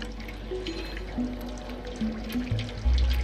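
A cat laps water in the video game Stray with soft repeated drips and splashes over a low steady hum, the liquid sounds growing fuller toward the end.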